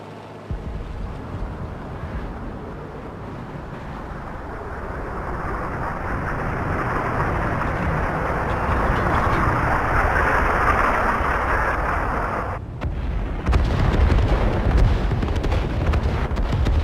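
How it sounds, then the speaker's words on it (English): Rumbling artillery explosions opening a World of Tanks battle in an arctic map, a continuous roaring, churning blast noise that swells and then breaks into a sharper burst near the end, no talking. "This apparently is our new improved artillery at the start of the battle."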